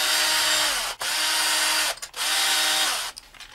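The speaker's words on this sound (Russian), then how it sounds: "Теперь откручиваем крышку крепления руля. Она держится на четырех болтиках." A power tool whirs while unscrewing the four handlebar clamp bolts on a new bicycle being assembled from the box, three sustained runs broken by brief pauses, close and loud.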